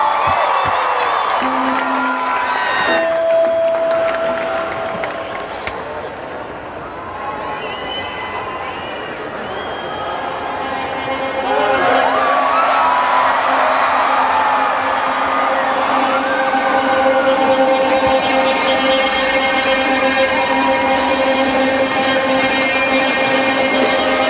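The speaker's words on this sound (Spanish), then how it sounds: "Y el aplauso es para ti, Raza, no para nosotros." A large rock concert crowd at Foro Chiapas keeps up loud, sustained applause and cheering with whistles and whoops, dense and continuous throughout, a voice briefly rising above the roar.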